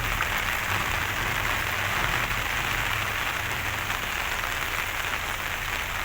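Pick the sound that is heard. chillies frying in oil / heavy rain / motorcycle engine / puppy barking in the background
heavy rain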